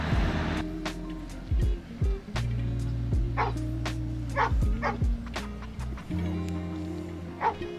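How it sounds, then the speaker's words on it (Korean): A dog barks loudly and repeatedly at a riverside campsite in spring, sharp close barks and yips in an irregular series over a steady low engine drone. "강아지를 데리고 와서 짖는 소리가 엄청 커가지고"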